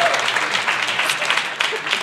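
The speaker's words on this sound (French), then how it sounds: "Par applaudissement, les gens qui sont dans le groupe" A crowd claps and cheers steadily in a brief burst of applause, dense and close.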